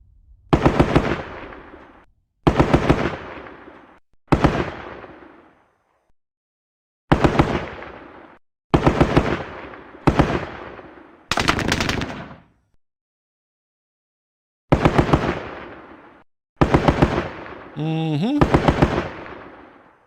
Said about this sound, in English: Our landing craft can provide some supporting fire at least.